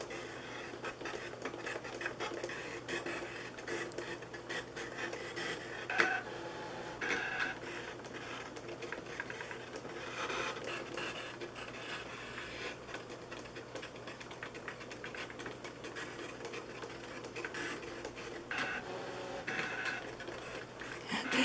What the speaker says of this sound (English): And it is cutting away. I love this machine, y'all.